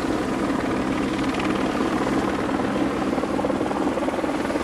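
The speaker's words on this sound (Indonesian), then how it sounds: "yang ini helikopter tentara negara Indonesia, teman-teman" An Indonesian army helicopter in a game powers up and lifts off, its rotor thrumming loud and steady throughout, with no voices.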